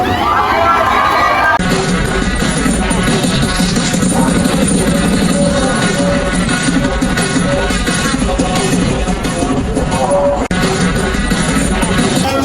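A dense crowd at EDSA Shrine cheering and shouting continuously, loud and close, with a public address voice and babble mixed into the roar.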